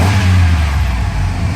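Chevy Astro van engine idling at about 800 RPM after a distributor repair, a steady low rumbling drone heard up close and fairly loud, even and unbroken with no speech.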